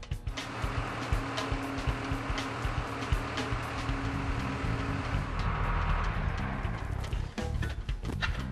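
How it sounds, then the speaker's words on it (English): A skid steer fitted with over-the-tire tracks drives slowly back and forth, its steady engine drone and rumble joined by repeated clanking and knocking of the tracks, loud and close throughout. "I'm going to hop in the machine and driving it back and forth slowly, we're going to properly seat these tires within the tracks"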